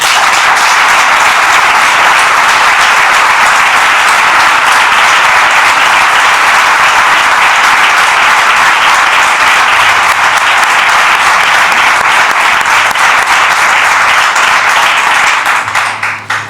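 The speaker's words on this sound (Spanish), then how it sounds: "Así que pido un fuerte aplauso para él." An audience applauds at a tribute to Rafael Jiménez Barrita, loud sustained clapping that holds evenly for over fifteen seconds before tapering off at the very end.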